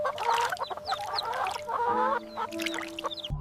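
Laying hens cluck and murmur close by on a countryside farm on a hot day, with a steady faint hum underneath.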